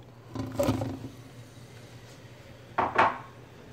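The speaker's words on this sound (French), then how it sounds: "On va rajouter nos oignons" Chopped onions tipped into hot olive oil in a frying pan, the same pan used to cook chicken livers, giving two short bursts of sizzling and utensil clatter about two seconds apart over a low, steady kitchen hum, with no talking.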